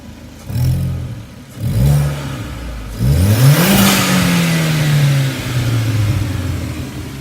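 A 2004 Audi A4 1.8T with a cold air intake revs in short repeated blips, then a longer climbing rev that holds and slowly settles, loud and close with no talk.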